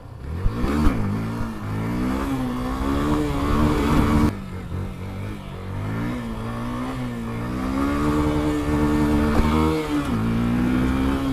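A motorcycle engine revs on an open, empty road. It runs close and steady throughout, and its pitch rises and falls as the throttle opens and eases.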